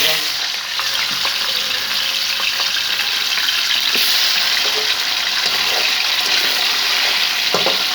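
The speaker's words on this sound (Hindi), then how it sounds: "ये हमने कढ़ाई रख दी है, इसमें घी डाल दिया है। सबसे पहले हमने ये चिकन इसके अंदर डालना है।" Chicken sizzles as it fries in ghee in a karahi, a dense, steady crackling hiss close by with occasional sharp pops and clinks.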